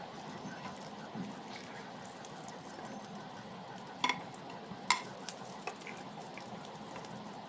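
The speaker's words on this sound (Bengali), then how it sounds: "দেখ আমার গুলো লাল লাল করে ভেজেছি।" Egg-dipped toast frying in a pan on a gas stove gives a steady, soft sizzle throughout, with a couple of sharper crackles or utensil clicks partway through and no talking.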